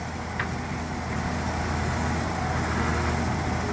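A Hitachi EX200 excavator's diesel engine runs at a steady, unloaded idle, giving a constant loud droning rumble with no change in pace or pitch.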